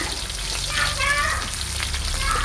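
Garlic and lotus shoots stir-fried in a hot pan give a steady, close sizzle with faint scraping from the stirring, and the sound lasts the whole time.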